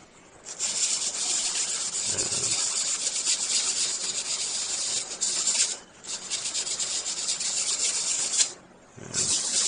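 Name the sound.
sanding plastic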